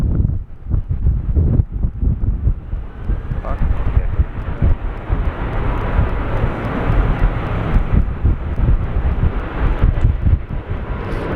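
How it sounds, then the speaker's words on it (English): A Qantas airliner takes off at Sydney Airport on a windy day, its jet engine roar building into a steady, broad rumble beneath gusty wind buffeting the microphone. "Qantas taking off now."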